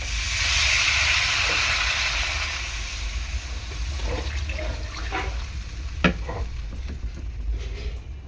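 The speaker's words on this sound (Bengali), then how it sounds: "এবার জল দিয়ে দেবো।" Water poured into a hot pan of taro and fish curry sets off a loud, steady hiss and sizzle at first, which eases into a softer bubbling with a few light clinks from the pan.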